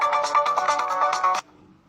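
A phone ringtone plays loud and clear, a steady run of melodic electronic notes for an incoming call that stops abruptly after about a second and a half.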